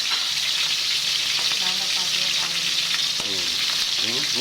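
Salmon head being sautéed in a hot pan, giving a loud, continuous frying sizzle with crackling spatters and scraping stir sounds, plus faint voices in the background.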